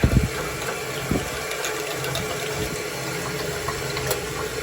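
Water gushes and hisses steadily through a cleaned valve on a Williamson gas boiler, a constant rushing flow with a few faint knocks near the start and no talking.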